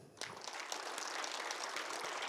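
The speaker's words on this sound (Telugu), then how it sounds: "ఒకసారి ఇప్పుడు మీకు గట్టే క్లాప్స్ అండి." A crowd applauds at a Guru Purnima celebration event, a soft, dense, continuous patter of many hands clapping that swells in after a brief quieter start and stays even.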